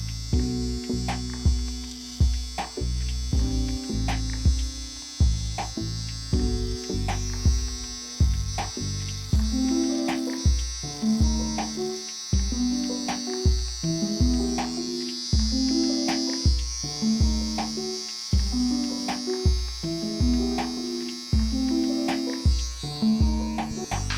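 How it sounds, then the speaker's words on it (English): An electric hair trimmer buzzes while cutting hair during a taper blend, with a close, steady electric hum broken by repeated short rhythmic strokes as it passes through the hair. "And now we'll do one with a trimmer, just to see the difference."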